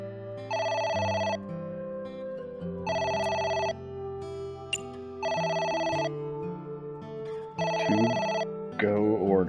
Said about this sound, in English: It's the phone. Maybe try picking it up?